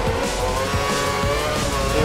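A Formula 1 car in the racing game F1 2013 accelerates with a loud, continuous high-pitched engine whine and rising gear tones, dense and steady throughout with no voice over it.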